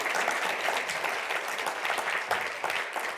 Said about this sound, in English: I would like to ask for a last round of applause for both Bogdana and Sam.